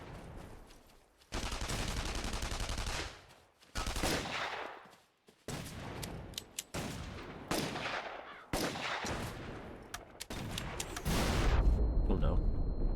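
Gunfire in The Saboteur: repeated loud bursts of shots and heavy impacts in several blocks separated by short pauses, with a strong rumbling surge toward the end.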